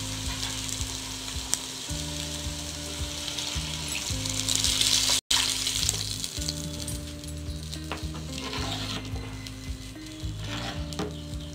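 Turkey berry tamarind broth poured into a pan of sautéed ingredients and cooking, a steady bubbling sizzle under a looping mechanical hum, with one brief dropout midway.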